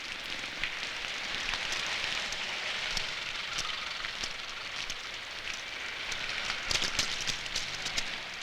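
Steady rain falls and patters on surfaces in an even, dense wash of noise that continues without a break, with no voices.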